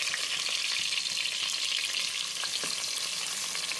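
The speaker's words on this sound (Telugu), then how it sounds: "ఇట్లా ఇప్పుడు కొంచెం ఇట్లా బ్రౌన్ అయినా కానీ మినపప్పు, దీంట్లో పచ్చిమిర్చి వేసేయండి. ఫస్ట్ కొంచెం అట్లా ఫ్రై కావాలి పచ్చిమిర్చి." Green chillies frying in hot oil with urad dal in a pan, a steady close sizzle and crackle with a few sharper pops, no talking.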